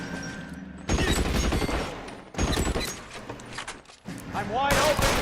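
Rapid gunfire bursts in the detective shooter L.A. Noire, loud rattling volleys that come and go over a few seconds, with someone talking over parts of it.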